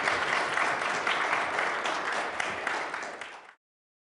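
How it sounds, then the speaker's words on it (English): Audience at a Library of Congress presentation applauding four chaplains, a full, steady wash of clapping from many people that holds evenly and then cuts off abruptly. "let's all give our 4 chaplains a big round of applause."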